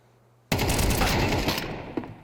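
Sudden burst of rapid automatic gunfire in a Counter-Strike esports match, loud and close after a quiet half-second, sustained for over a second before tapering with one last shot.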